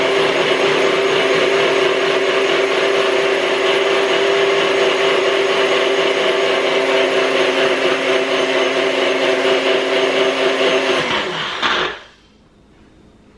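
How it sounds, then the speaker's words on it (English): A kitchen blender runs continuously, whirring loudly as it blends a homemade vitamin C serum, then winds down and stops abruptly near the end. "No, my blender is turned on."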